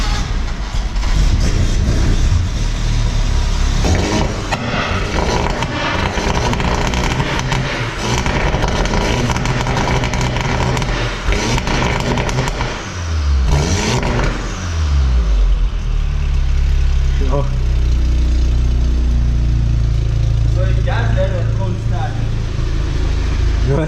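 A tuned VW Golf 7.5 TCR revs and accelerates hard on a test drive, its engine note rising and falling loudly throughout, with people talking and cheering inside the car.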